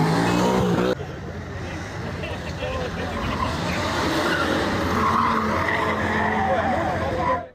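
Cars skid around a roundabout amid a street disturbance, tyres squealing and engines revving continuously over crowd noise, with a brief loud burst of voices at the start before the screeching takes over.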